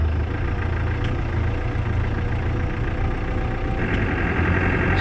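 Land Rover Defender 110 engine while driving, a steady low rumble with continuous road and drivetrain noise, close and even throughout with no talk.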